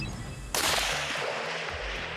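A single sharp, loud sniper rifle shot cracks out at a target on a mountain range, following a quiet lead-in and trailing into a long echoing rumble that fades over about a second and a half.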